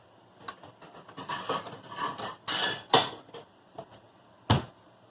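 Plates and cutlery clink and clatter in a kitchen as freshly baked gluten-free sourdough yeast rolls come out of the oven, a series of close, irregular knocks with one sharp clank near the end.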